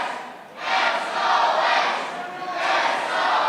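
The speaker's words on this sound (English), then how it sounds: "This crowd is absolutely electric here tonight in Dublin at the Laughter Lounge." A crowd at a wrestling show in the Laughter Lounge, Dublin, cheers and roars in rolling waves, surging loudly and dipping briefly before swelling again.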